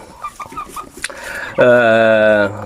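Domestic broiler chickens cluck in short, close, rhythmic bursts, then one bird lets out a loud, sustained, harmonic squawk that holds steady for about a second.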